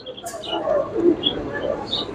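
Red Danish pigeons coo softly at a busy pigeon market in Bangladesh, with several low cooing calls and a faint chirp over a steady crowd murmur, close and moderately loud.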